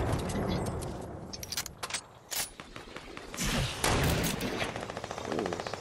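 Rapid gunfire in a Fortnite match, dense clusters of shots and mechanical clatter, close and fairly loud, coming in uneven bursts over a busy game mix.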